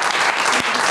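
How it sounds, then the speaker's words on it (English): Studio audience applauding guests on a talk show, dense and steady clapping filling the whole moment, close and loud. "round of applause, guys,"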